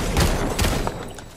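Gunfire in Fortnite: a few quick, loud shots cracking close together over a dense game background.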